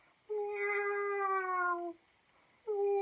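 A human voice imitates a sad little cat, drawing out one long, plaintive meow and then starting a second after a short pause. The sound is clear and close, with no other talk around it.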